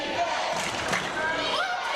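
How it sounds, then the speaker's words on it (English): A crowd at a girls' varsity high school basketball game between Norwood and Summit Country Day cheers and murmurs in a large gym, a broad steady roar with voices rising, while commentators talk over it. "Crowd's getting hype."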